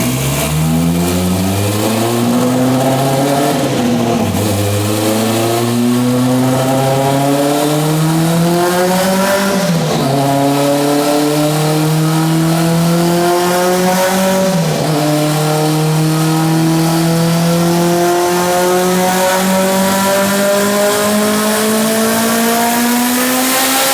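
A turbocharged Honda B-series engine in an AWD car roars on a dyno, revving hard through repeated rising pulls with brief dips between gear changes, loud and continuous, without speech.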